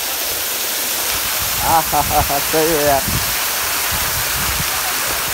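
Water pours down from above at a remote travel spot, a loud, continuous rushing roar. Someone speaks briefly over it midway.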